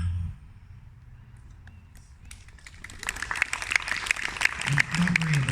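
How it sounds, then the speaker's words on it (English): An audience claps after a poem reading at an outdoor poetry evening in a park; a few scattered claps at first grow into denser, moderately loud applause, with some low murmuring underneath. "don't worry about clapping after everyone if you don't feel like it"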